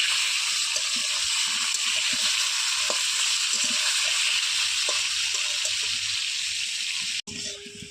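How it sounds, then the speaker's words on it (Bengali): Potatoes for a chicken curry fry in oil over a wood-fired clay stove, giving a steady loud sizzle with faint clinks, cut by a brief break near the end. "কাঠের উনুনে মাংস রান্না হচ্ছে, মাংসের আলু ভাজা হচ্ছে এখন"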